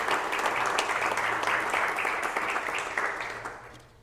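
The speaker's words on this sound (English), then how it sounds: "How about another round of applause for Tour de Force?" An audience at a talk at Instituto Trezeno in Lisbon applauds in a steady, full round of clapping that fades slightly toward the end.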